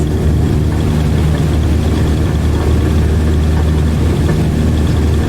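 Cessna 152 single-engine light aircraft at takeoff power in Microsoft Flight Simulator 2020, a loud steady propeller-engine drone that holds constant throughout with no talking.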